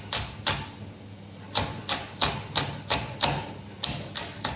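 Green chillies chopped with a knife on a cutting board for an Indo-Chinese chilli egg dish: about a dozen sharp, irregular taps close by over a constant high insect-like whine.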